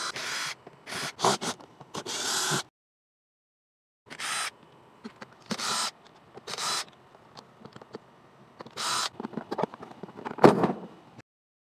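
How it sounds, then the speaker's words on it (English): Screws are being removed from the plastic housing of an automatic hose reel, heard as several separate bursts of close-up scraping, rattling and handling noise broken by short silences. "Now we gotta take the screws out all the way around."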